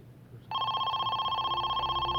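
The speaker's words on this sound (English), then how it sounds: "the phone finally rang" A telephone starts ringing with a steady, continuous electronic trill that cuts in sharply and carries on loud and alone over a low background hum.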